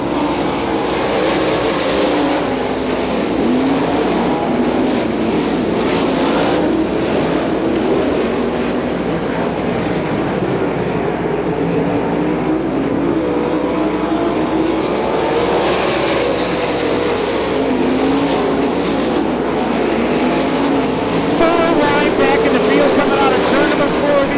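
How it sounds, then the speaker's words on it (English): Sprint cars roar around a dirt oval at Beaver Dam Raceway in an outlaw sprint feature race, a loud, continuous engine drone swelling as the field passes, with a race announcer talking over it throughout. "Wimmer throwing a challenge and Schultz for that 3rd spot as they head down the backstretch."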